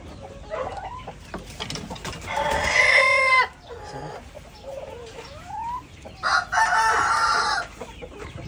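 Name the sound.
brown egger chickens and roosters crowing in coop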